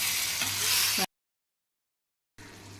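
Chettinad chicken cooks in half a cup of water over a high flame, giving a loud, close, bubbling hiss that cuts off into silence and then resumes.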